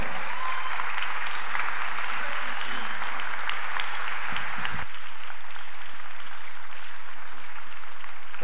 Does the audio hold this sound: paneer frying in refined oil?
no